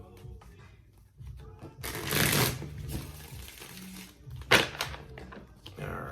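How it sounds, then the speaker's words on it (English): Tarot cards being shuffled by hand, giving a couple of close, soft riffling bursts of papery rustle separated by quieter handling noise. "We'll do one more shuffle."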